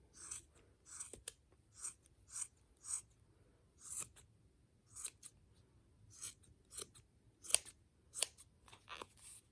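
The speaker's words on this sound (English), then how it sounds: "So when you see me trim, I'm going to trim a little bit bigger than the circle." Scissors trimming a yarn pom pom for a hat, giving a quiet, close run of crisp snips in a loose, regular rhythm, about a dozen cuts with short pauses between them and no talking.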